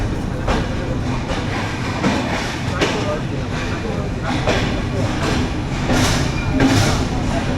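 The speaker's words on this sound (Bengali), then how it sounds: "তো এই রাত 3:10 আমাদের ট্রেন ছেড়ে দিল চাটমোহর থেকে" The Padma Express train runs at night after leaving Chatmohar: a continuous rumbling roar with rhythmic wheel clatter, heard from inside the carriage, with voices faintly present.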